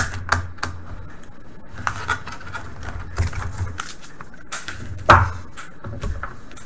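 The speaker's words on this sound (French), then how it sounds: "on commence toujours par enlever la batterie" Battery coming out of an Acer Aspire 5741 laptop: a series of close, sharp plastic clicks and taps, with one louder snap near the end, over a low room hum and no talking.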